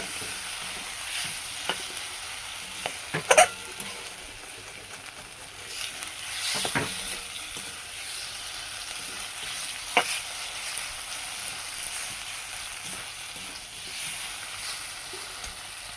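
Fish fat and fish roe fry gently in oil, a low, steady sizzle close by, with a few scattered clicks and scrapes of a utensil stirring in the pan and no talk.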